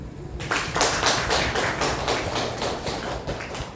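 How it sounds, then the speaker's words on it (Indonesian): Steady clapping from a group of people, dense and continuous after a short quiet start, with a few louder claps standing out. "Kayaknya tepuk tangannya juga untuk Bapak Ki Hajar Dewantara kita ya"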